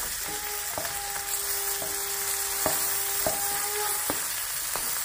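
Golda prawns fry in a pan with a steady, close sizzle and crackle, punctuated by a few light taps and clinks of a utensil against the pan.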